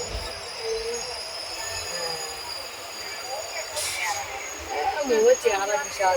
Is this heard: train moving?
yes